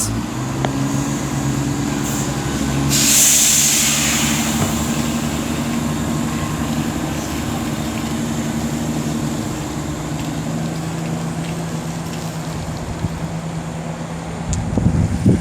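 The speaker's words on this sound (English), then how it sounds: "17621 is now gonna depart" A train departs at Tamworth on the West Coast Main Line, a steady low rumble and hum of traction equipment with a brief hiss early on, sustained without talk.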